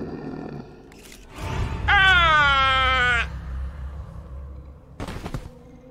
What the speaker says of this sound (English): I wish I had a braver scream.